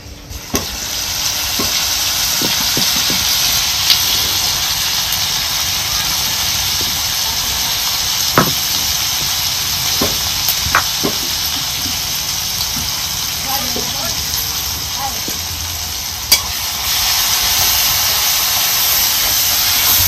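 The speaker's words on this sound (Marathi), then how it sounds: "कुटून घेतलेली ही हिरवी मिरची आपल्याला चांगली असं त्याच्यात परतून घ्यायची." Fennel seeds and crushed green chili sizzling in hot oil in a pan, a steady loud hiss running throughout with a few faint clinks and light taps from stirring.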